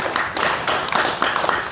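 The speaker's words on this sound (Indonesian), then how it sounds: "Boleh tepuk tangan dulu teman-teman." Audience clapping at a cultural dialogue event, a short burst of scattered hand claps with uneven rhythm, fairly close and loud.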